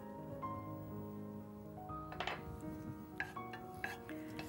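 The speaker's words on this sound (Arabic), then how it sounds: "هاي بدنا نحرك شوي البصلة، حركها لما تبلش تحمر شوي" Chopped onion in oil in a pan gets stirred with quiet scraping and a few light clinks against the pan. The sound is faint and close, over a low steady background hum, with no speech.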